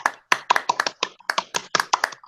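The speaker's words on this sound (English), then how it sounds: "Scott, give her a round of applause, Scott" A small round of applause from a handful of people at a radio or studio show, sharp separate hand claps in quick uneven bursts, close and clear, with no voices over them.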